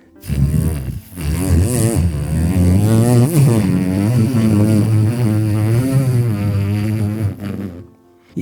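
A voice imitates the sputtering engine of an old Fiat car, a continuous buzzing, rumbling drone with wavering pitch held for several seconds, loud and close, breaking briefly near the start.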